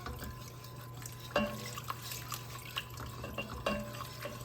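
Liquid trickles and drips into a pot as cooking juices are poured slowly into a pot pie sauce under constant whisking, with soft wet splashes and a few sharper clinks over a steady low hum.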